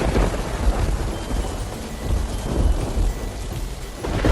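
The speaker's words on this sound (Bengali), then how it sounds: "এত বৃষ্টি নেমেছে" Heavy rain pours steadily in a cartoon with deep rumbles of thunder rolling underneath, loud and continuous with no talking.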